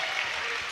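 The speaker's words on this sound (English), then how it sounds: "You can hear the GP crowd start to get into the ball game right here" Home crowd at a girls' high school basketball playoff game, the Lady Highlanders against the Lady Tornadoes: a brief burst of clapping and cheering from a gym audience, steady and fairly distant.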